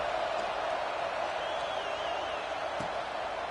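Stadium crowd noise at a Texas versus LSU college football game, a dense steady roar of many voices with faint cheers rising from it, continuous at an even level for the whole stretch.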